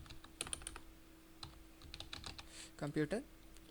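Light, scattered keystrokes on a computer keyboard type a company name into Tally accounting software. The clicks are faint and close, ending in a quicker cluster of taps.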